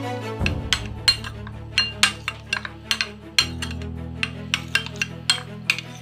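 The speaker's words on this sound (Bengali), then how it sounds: "এবার এই টক দইটাকে একটু আমরা ফেটিয়ে নেব।" Whisk clinking against a large bowl while sour yogurt is beaten, a steady run of close, bright metallic taps at a quick regular rhythm with no talk.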